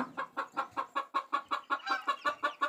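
A hen clucks in a steady rhythmic series of short calls, close and fairly loud, with no talking.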